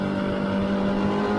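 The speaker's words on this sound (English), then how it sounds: "So I go through here, I can accelerate here." Car lapping Palmer Motorsports Park during a track day, engine held at a steady loud drone with a strong tonal hum, continuous and close, with no talk over it.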